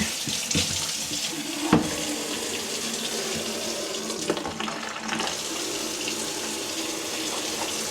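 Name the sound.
water running from an outdoor tap for cleaning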